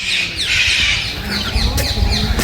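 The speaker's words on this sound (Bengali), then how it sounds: "এখানে রয়েছে জেব্রা ফিঞ্চ, তার সঙ্গে ডায়মন্ড ডাফ, ছোটো ছোটো পাখিগুলো" Small caged birds, zebra finches and diamond doves, chirp and squawk close by in a rapid overlapping chatter of short high calls, with no talking.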